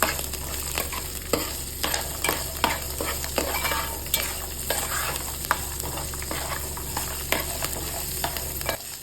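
Peanuts and green chillies frying with asafoetida in hot oil while being stirred, a continuous sizzle with frequent scraping spoon strokes against the pan, fairly loud and close with no talk.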